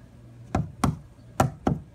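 Knuckles rap on the thick plastic hull of an Old Town Vapor 10 Angler kayak: four dull, close knocks, grouped in two pairs, alone against a quiet background.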